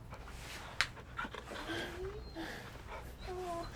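The wolf-dog Torgal from Final Fantasy XVI pants and whimpers softly in a quiet game scene, with short breathy bursts and faint whines at moderate distance under ambient music.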